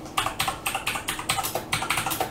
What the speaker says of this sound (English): Let's just type in 464 and let's have a look how much they are going for.